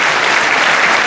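Dense, steady audience applause at an accordion concert, a loud sustained wash of many hands clapping at once with no pauses and no voices.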